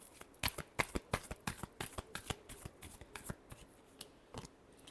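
Tarot cards shuffled by hand in a rapid run of crisp snapping flicks, close and steady for several seconds, with no talking.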